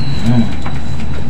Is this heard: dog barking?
no